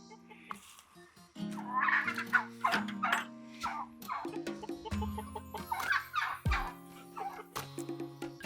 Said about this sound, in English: There's always a broody hen.